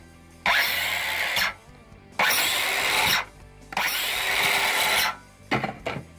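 Porter-Cable 18 volt cordless drill on a lithium battery whirs up in three loud bursts of about a second each, with a shorter stuttering pull of the trigger at the end.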